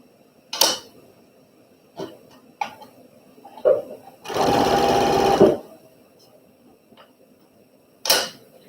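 A sewing machine stitches a quilt block seam in one steady, rapid burst of about a second, set among scattered clicks and handling knocks, with sharp taps at the start and end.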